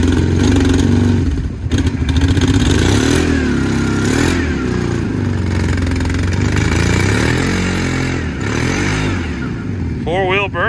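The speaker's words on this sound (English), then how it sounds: "Four-wheel burnout." A truck with a TBI Vortec engine doing a four-wheel burnout: loud, sustained engine roar with rough clattering and shifting revs throughout, very close and overpowering, ending with a brief high rising squeal.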